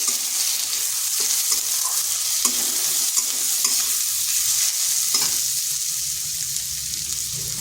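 Sliced garlic cloves sizzle steadily in hot oil in a pan while a utensil stirs them, producing scraping clicks over a continuous bright frying hiss, close and fairly loud with no voices.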